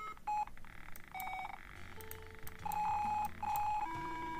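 An Arduino memory game running in a Tinkercad circuit simulation plays its loser sound: a quick series of electronic beeps and buzzer tones at changing pitches, close and clear with no talk.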